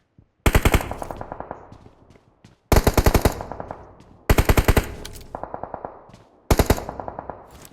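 Video game automatic gunfire rings out in four loud, sharp rapid-fire bursts separated by short silences, each volley a tight string of cracking shots that trails off quickly.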